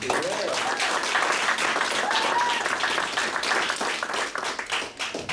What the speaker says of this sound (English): And one more round of applause for all the people organizing the event.